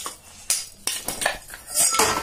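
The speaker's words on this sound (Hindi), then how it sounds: "और अब हम इसे वापस फिर पैन में डालेंगे।" Coarsely ground sesame seeds being tipped back into a pan, giving several scraping metallic clinks and taps of a spoon against the vessel, close and moderately loud with no talk.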